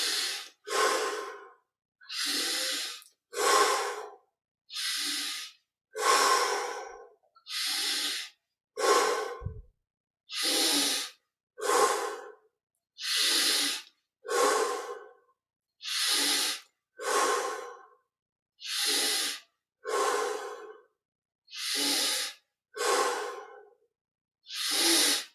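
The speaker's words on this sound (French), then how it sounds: "20 respirations profondes" Deep, slow yoga breaths repeat in a steady rhythm, about twenty close, clear inhales and exhales with short silent pauses between them and no talking.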